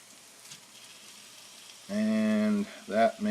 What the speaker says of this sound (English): this is once again a recipe where you guys see me browning meat to start